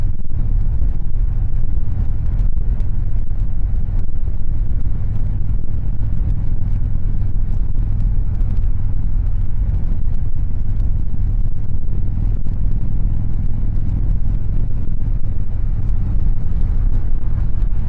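Constant heavy wind buffeting and roar on a 2021 Indian Chieftain Darkhorse motorcycle at freeway speed, deep rumbling wind noise filling the whole stretch without a break and no talk.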